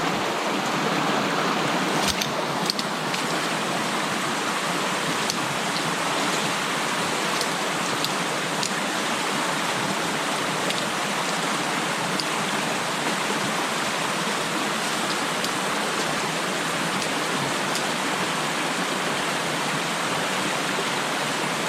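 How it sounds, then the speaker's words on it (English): Mountain stream on a Great Smoky Mountains hiking trail at a crossing, a steady rushing wash of flowing water, close and continuous, with no talk. "coming up on stream crossing number 2. So we're finally have to get wet."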